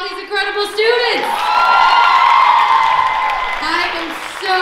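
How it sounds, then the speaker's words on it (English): An audience at a high school DECA prom fashion show claps and cheers for the students, with loud whoops and yells riding over steady applause for several seconds. "How about a round of applause for all these incredible students?"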